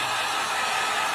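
Steady whooshing blast of a heat tool heat-setting paint on a custom LeBron James PE sneaker, a continuous close airflow hiss with no talk.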